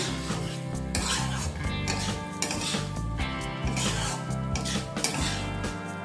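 A spatula scrapes and stirs fried prawns into a thick banana stem curry in a metal pan, a steady rasping clatter running throughout beneath loud background music.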